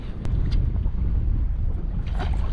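A boat motor runs steadily on open water during a fishing trip, a continuous low rumble with wind noise across the microphone and no talk.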